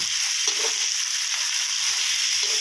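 Vegetables stir-frying for dry chicken suki in a hot pan with sauce and no added water, giving a steady, close hiss of sizzling with faint stirring scrapes throughout.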